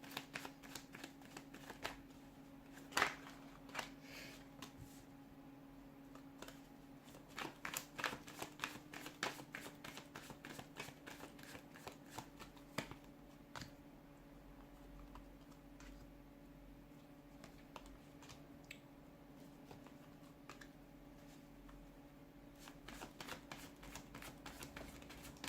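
Deck of tarot cards shuffled by hand in a quiet room: repeated soft riffling and sharp card snaps at irregular intervals over a low steady hum, close but faint.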